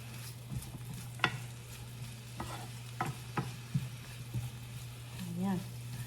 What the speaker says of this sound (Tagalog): Then haluin lang natin to hanggang sa maluto.